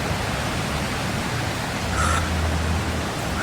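Curug Semawur waterfall in Plantungan, Kendal, on the slopes of Mount Prau, gives a loud, steady, close-up rush of falling water that holds unbroken throughout.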